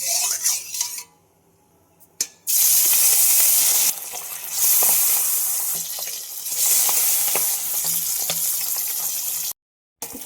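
Fish rubbed with salt and turmeric frying in hot oil in a wok, a bright continuous sizzle that cuts out briefly, with scattered clinks of utensils against the pan.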